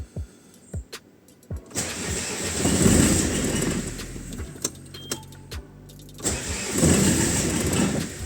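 A Renault F9Q diesel engine fitted in a Suzuki cranks with a few starter clicks, catches, and idles steadily, then revs again near the end; close and fairly loud, no talk.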